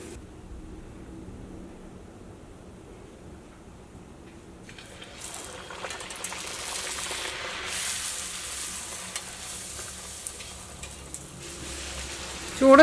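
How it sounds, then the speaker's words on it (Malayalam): Poori dough frying in hot oil, a quiet hush at first that swells after a few seconds into a steady, busy sizzle, with a few louder crackles near the end. "ഇനി നമ്മൾ പൂരി വറുത്തെടുക്കാൻ വേണ്ടിയിട്ട് പോവാണ്"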